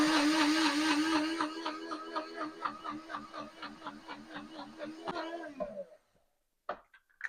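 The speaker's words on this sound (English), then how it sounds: "I thought the blender broke." A blender motor whirs loudly for several seconds with a steady mechanical drone, then winds down and cuts out, followed by a few faint clicks.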